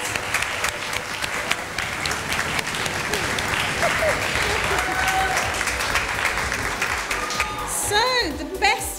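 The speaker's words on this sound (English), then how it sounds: "Debbie Gilbert definitely deserves a huge round of applause for an amazing event" Audience at a business women awards event claps for the organiser, loud sustained applause with cheers and a few voices rising above it, including whoops near the end.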